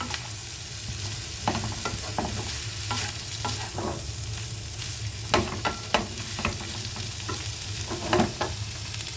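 Onion frying in a pan with salt gives a steady close sizzle, with repeated scraping and tapping from a spatula stirring throughout, and no voices.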